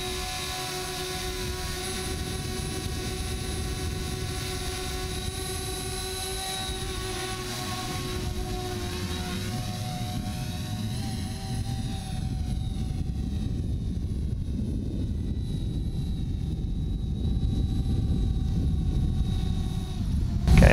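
A DJI Spark drone launches and flies, its propellers giving a steady buzzing whine with stacked tones that rise and fall as the motors change speed, fairly loud and continuous with no talking.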